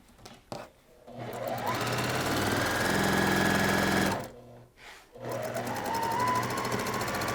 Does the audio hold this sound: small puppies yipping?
no